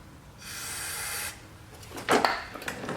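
A steady hiss of fuel spraying into a snowblower engine lasts about a second, followed by a brief pause and then a few sharp clanks and rattles nearby.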